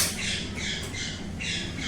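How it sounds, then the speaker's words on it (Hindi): Pet parrot screaming indoors, a run of harsh, high squawks repeating in quick bursts, fairly faint and slightly distant, with no talk over it. "तोता कैसे चिल्लाने लगा पूरा"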